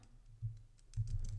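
Typing on a computer keyboard while entering a command, two short bursts of close, quiet key clicks with no talk.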